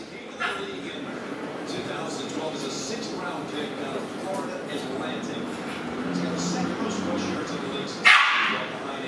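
A dog yips and barks at intervals through a noisy indoor stretch, with a person talking over it. One louder bark stands out near the end.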